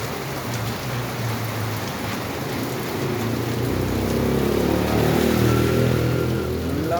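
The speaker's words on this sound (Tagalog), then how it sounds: "Lakas ng ulan." Heavy rain pours down steadily during flooding in Cavite, a dense continuous hiss that swells slightly louder toward the middle, with a low rumbling undertone.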